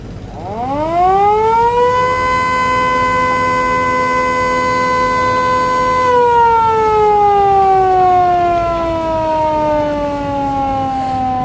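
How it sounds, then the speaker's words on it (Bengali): The horn of the Carnival Cruise ferry sounds as a warning near Fatullah launch ghat on the Dhaka to Bhola run, one long loud tonal blast that rises at the start, holds steady, then slowly sags in pitch. "দর্শক দেখতে পাচ্ছেন যে হরেন দিল কারণ এই সমস্ত জায়গায় এসে হরেন দিয়ে অ্যালার্ট করতে হয়"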